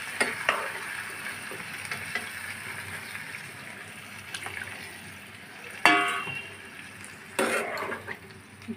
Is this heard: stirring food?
yes